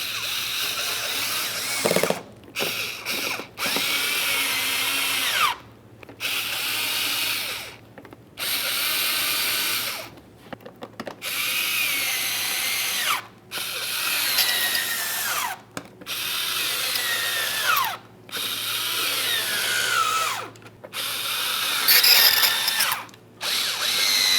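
A power drill whirs in repeated bursts, each run driving a mounting screw for a 2006-2012 Ford Fusion front grille with a rising whine, separated by brief pauses, close and loud.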